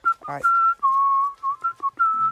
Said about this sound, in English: When he goes home, we hear him whistling a tune